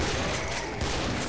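Gunfire from the video game Killing Floor, a dense, continuous loud barrage of overlapping shots filling a brief moment with no let-up.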